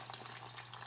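An egg frying in hot, smoking oil in a pan for Spanish-style fried eggs: a soft, steady sizzle and crackle, faint and close, with no voices over it.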